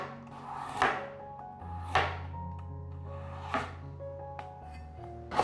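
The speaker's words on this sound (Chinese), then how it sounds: "把红萝卜切片" A kitchen knife slices a peeled carrot on a chopping board in a few crisp, separate cuts about a second apart, each a short sharp knock over soft background music.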